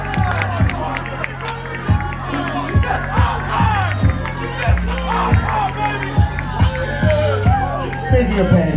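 A wrestling crowd at an Inglewood event for the Amped Up Wrestling debut of the Sounds of Pain cheers and shouts steadily, with a loud rhythmic thumping beat running underneath the noisy, excited hubbub.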